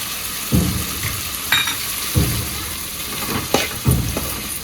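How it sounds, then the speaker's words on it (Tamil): Green curry leaves and roasted cashews drop into mutton chukka gravy, giving a moderate sizzle with several distinct bursts of spatter and stirring at intervals. "இதில் கொஞ்சமாக பச்சை கருவேப்பிலை போடலாம்."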